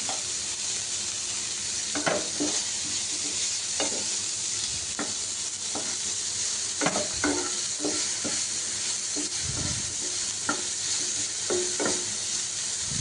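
Onions and broccoli stir-fry in a pan with a constant hiss of sizzling oil, punctuated by repeated scraping and stirring strokes at an irregular rhythm, close and clear.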